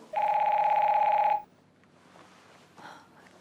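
A telephone rings once in a loud, steady electronic trill that lasts just over a second and then stops, leaving a quiet room with faint breathing and movement.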